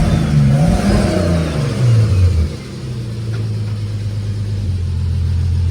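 BMW E46 engine running after sitting unused for a while, a loud steady close rumble with a revving swell in the first couple of seconds before settling into an even idle drone.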